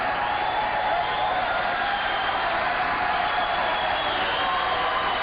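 Boxing arena crowd at a WBC world title fight for Billy Costello, a steady, distant roar of cheering and murmuring voices that holds at an even level throughout, with no clear individual calls standing out.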